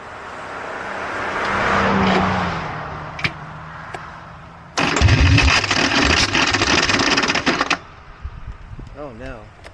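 Harley-Davidson Bad Boy with a Baker 6-speed: a low rumble gives way to a loud, harsh engine roar lasting about three seconds, which then drops back to quiet, and a voice is heard at the close.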